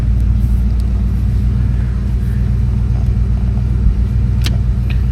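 A 1969 Ford Fairlane engine idles steadily, a loud, continuous low rumble with a deep throb and faint high hiss, holding an even tone throughout with no revving or talk.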